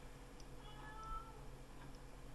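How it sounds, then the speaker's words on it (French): A pet cat meows indoors in a few short, faint calls against a steady low room hum, with no talking over it. "Mon chat vous dit bonjour."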